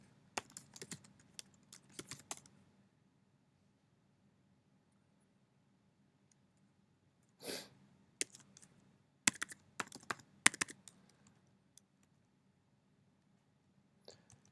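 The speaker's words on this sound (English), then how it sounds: "Just typing these in." Computer keyboard keys are typed in short bursts of quiet clicks separated by pauses, close by in an otherwise silent room.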